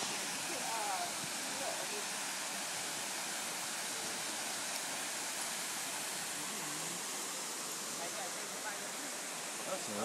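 A waterfall in Auburn, Alabama roars as a steady broadband rush of falling water, loud and close, unbroken from start to finish.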